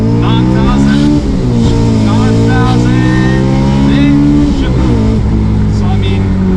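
A Honda S2000 engine revs loud and close, its pitch climbing and falling across repeated throttle blips, with a voice talking over the engine throughout.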